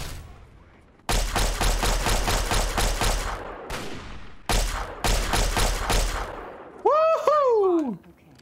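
Rapid automatic gunfire from the video game Fallout 3 in two loud, sustained bursts with a short gap between them, then a brief whooping voice near the end.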